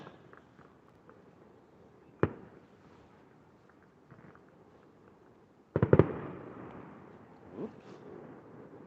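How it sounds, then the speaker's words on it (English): Fourth of July fireworks bursting outdoors in Silverton, Colorado: a sharp isolated bang early on, a fainter pop, then a loud cluster of cracks followed by a crackling, sizzling tail and another burst, heard from a distance over low background noise. "They're going off pretty good."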